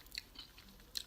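Someone eating Ruffles Double Crunch Zesty Cheddar potato chips: a few sharp, close crunchy bites and chews in quick succession, soft and intimate, with no talking.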